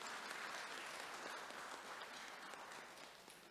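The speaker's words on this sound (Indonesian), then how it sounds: "Kita berikan aplaus ya." A church congregation applauding, a steady wash of hand claps that holds throughout and fades slightly toward the end.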